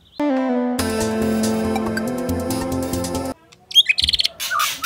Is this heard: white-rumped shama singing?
yes